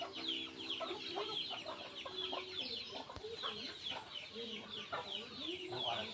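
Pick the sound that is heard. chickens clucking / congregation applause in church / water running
chickens clucking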